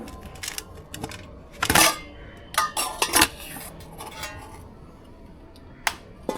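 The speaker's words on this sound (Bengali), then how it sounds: "এবার ঢাকনিটা খুলে আপনাদের দেখাই কেমন হয়েছে" A metal lid comes off a pan of steamed koi fish cooked in oil, giving several sharp clinks and clatters of metal on metal spread over a few seconds, close and fairly loud in a quiet kitchen.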